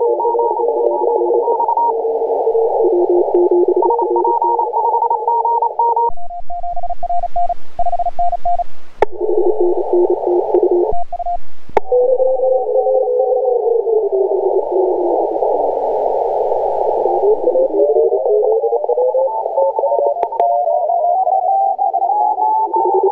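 Amateur radio signals picked up on a transceiver at the D60AE station: loud, continuous warbling tones that shift in pitch, broken by short crackles of static, with no one talking.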